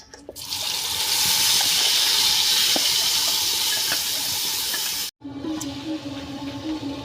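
Masala hitting hot oil in a kadhai for green chilli chicken, giving a loud, steady hiss that runs for about five seconds, cuts off abruptly, then resumes as a softer sputter.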